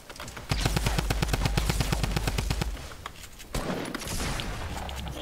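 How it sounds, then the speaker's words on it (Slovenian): Rapid gunfire in Fortnite, with a grenade launcher among the weapons, rattles in a dense burst for about two seconds, then quieter mixed firing and game noise follow. "Strelil sem grenade launcher, vedete kaj?"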